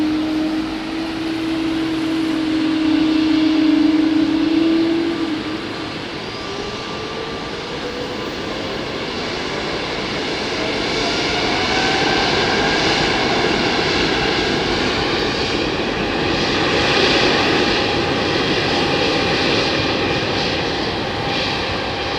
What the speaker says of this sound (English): Japan Airlines did an early go around, now back on finals.